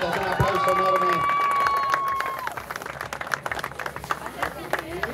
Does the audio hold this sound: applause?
yes